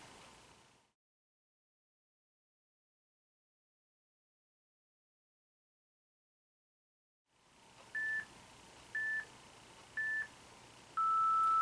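A workout interval timer gives three short evenly spaced beeps followed by a longer sustained tone, clear and close, after a stretch of near silence.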